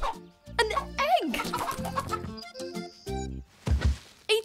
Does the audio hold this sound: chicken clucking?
yes